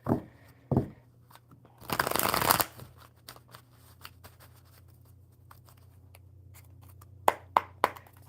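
A deck of playing cards riffled and shuffled close up during a card reading, with a burst of fast riffling, then softer handling and a few quick snaps of cards at the end, in a quiet room.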